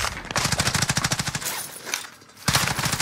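Rapid automatic gunfire in a shooter video game, loud close bursts rattling off in quick rhythm, pausing briefly before another burst resumes.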